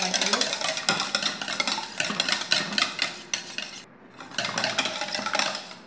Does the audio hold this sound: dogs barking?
no